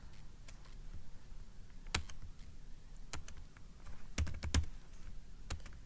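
Someone types a note on a computer keyboard in a quiet room: sparse, light keystrokes with irregular gaps and a quick burst of clicks toward the end.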